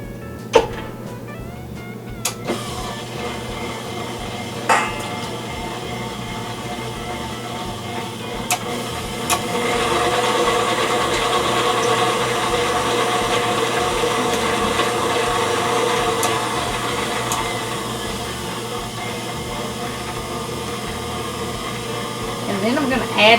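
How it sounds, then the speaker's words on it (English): An electric hand mixer beating eggs for chocolate chip cookie dough, a continuous whirring drone that grows louder and steadier partway through, with a few clicks and knocks before it settles. "I'm going to start with my eggs. Turn my mixer on and put them in."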